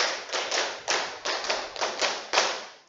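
High-school class clapping a rhythmic pattern in unison, groups of sharp, fairly close claps repeating in a steady beat with short pauses between bursts.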